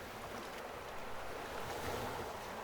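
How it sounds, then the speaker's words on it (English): Waves wash in with a continuous broad rush of surf, steady and fairly near, blended with some wind noise and no voices. "focus on the sound of the water"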